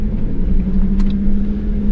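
Cars pass close by on a narrow mountain track in the Victorian High Country, a loud steady engine rumble with a deep drone and a brief higher rattle.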